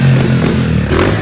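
A close fuel-injected motorcycle engine roars and revs briefly, loud and rough with a slight clatter.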